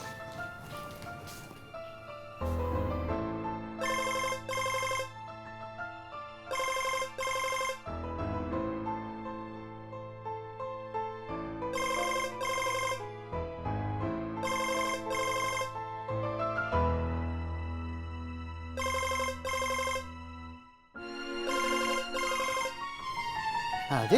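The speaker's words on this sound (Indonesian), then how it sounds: "Kau punya istri telepon ini, kau angkat nak." A mobile phone ringtone plays a repeating electronic melody with steady pulsing beats and bright chimes, loud and close, continuing for a long stretch with brief gaps between phrases.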